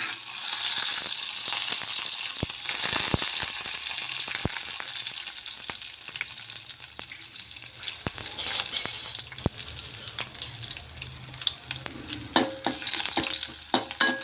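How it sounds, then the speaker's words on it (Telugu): Green chillies and curry leaves crackle and sizzle steadily in hot oil for a sweet corn chitti garelu pulusu tempering, with a bright continuous hiss broken by sharp pops and a few clinks of a utensil. "ఆయిల్ వేడెక్కిందండి. ఇప్పుడు నిలువుగా కట్ చేసుకున్న పచ్చిమిరపకాయలు అలాగే కరివేపాకు వేస్తున్నాను."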